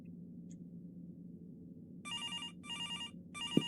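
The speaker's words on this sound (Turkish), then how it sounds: "Telefon geldi." A telephone ringing in a sandwich-shop cooking game, three bursts of bright electronic trilling ring, preceded by a quiet low hum and ending with a short click.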